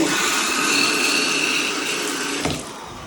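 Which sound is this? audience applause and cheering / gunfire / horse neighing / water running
water running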